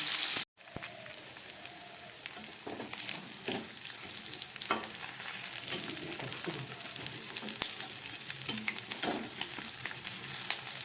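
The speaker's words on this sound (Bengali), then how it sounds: "ও পিঠ ভাজা হয়ে গেলে নামাবো।" Small fresh pond rui fish, turned over in hot oil, crackle and sizzle continuously at close range with scattered sharp pops and spatters, after a brief cut at the start.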